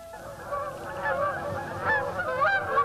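Geese honking in a steady overlapping chorus, a flock calling close and loud for the whole stretch, with no voices over it.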